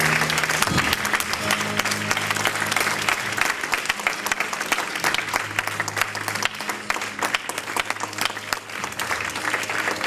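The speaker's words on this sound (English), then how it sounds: "Give the Lord a hand clap offering." A church congregation gives a loud, sustained hand clap offering at a miracle service, dense clapping that continues throughout, with a low organ or keyboard tone sounding underneath.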